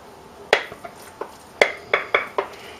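Roasted vegetables being emptied into a butter-greased oven dish make a series of sharp clinks and clatters against the dish, about seven distinct hits at irregular intervals with quiet gaps between them.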